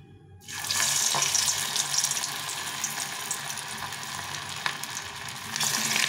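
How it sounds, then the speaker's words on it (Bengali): Paneer and capsicum patties dropped into hot oil in a pan: a loud sizzle bursts in after a short quiet start, then settles into a steady crackling fry that swells again at the end. "তেলটা গরম হয়ে গেছে, এখন আমি এগুলো ভেজে নেব।"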